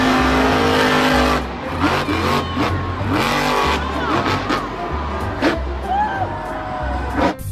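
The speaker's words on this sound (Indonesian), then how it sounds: "Di sini ada mobil monster teman-teman." Toy monster truck play with a loud engine sound effect, revving and accelerating race-car noise with whooshing pitch sweeps, prominent and close.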